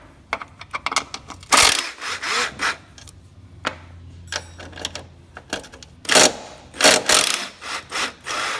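A ratchet loosening the three 14 mm strut top nuts on a first-generation Honda Insight, heard as irregular bursts of clicking and rattling with clunks and pauses, close and fairly loud.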